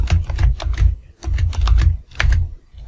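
Fast bursts of computer keyboard typing while a programmer writes a C# method in a Unity script, clacking in quick clustered runs with brief pauses between them.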